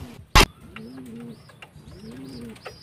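A pigeon coos nearby in repeated soft, rolling phrases, preceded by one sharp click or knock.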